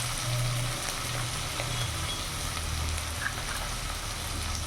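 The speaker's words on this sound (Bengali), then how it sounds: "এর মধ্যে আমি একটা টমেটো কুচোনো দিয়ে দেবো। এবার ভালো করে নাড়াচাড়া করে নেব।" Chopped tomato frying in a pan for a fish (loitta) dish, a dense, steady close sizzle like light rain with faint stirring underneath and no talk.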